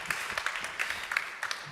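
Scattered hand claps from a small audience at a regional low-carbon strategy presentation, with individual claps audible, soft and brief.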